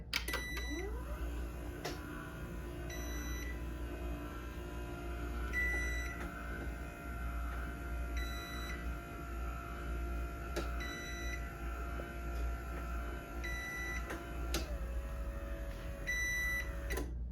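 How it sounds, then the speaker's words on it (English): A Chamberlain LW5000EV garage door opener running on battery beeps steadily at regular intervals over a constant low motor hum, with occasional sharp clicks; no one speaks. "So now if you run it, it will beep the entire way."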